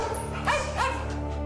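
Several dogs whimper and yip in soft, high cries, two short whines rising over a constant low hum in an indoor space.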